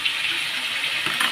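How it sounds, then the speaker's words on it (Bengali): Water gushes steadily and close up into a cooking pot of spiced Bengali vegetable curry with fried lentil dumplings in a home kitchen, lasting just over a second. "এটা ধুয়ে জল দেব।"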